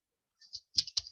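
A computer mouse clicking the OK button in a Python program: a few tiny, crisp clicks close by, quiet, with no talk over them.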